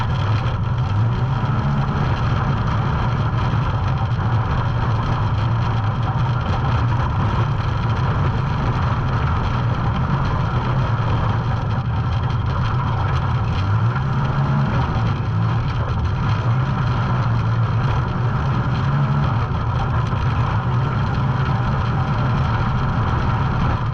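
Can-Am off-road race vehicle at an Ultra 4 event in Pottsville, Pennsylvania, its engine running steadily and loudly for the whole stretch with a constant low rumble and no speech.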